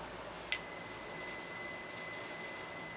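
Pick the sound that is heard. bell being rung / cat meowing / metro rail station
bell being rung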